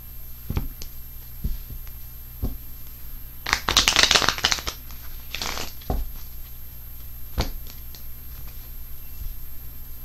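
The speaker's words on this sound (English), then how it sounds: "Let's pull 3 cards on this 8 of Wands, shall we?" Tarot cards being shuffled close up, a dense riffling burst in the middle flanked by scattered single snaps and taps as cards are drawn and laid down, with no talking.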